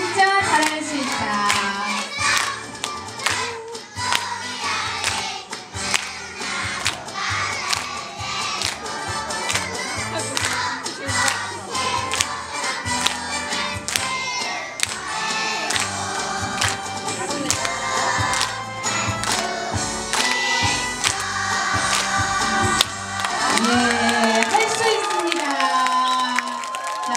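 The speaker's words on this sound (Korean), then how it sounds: "박수 힘차게 부탁드리겠습니다." An audience at a kindergarten recital claps and cheers loudly and continuously for a children's choir, with children shouting and clapping hands mixed into the steady crowd noise.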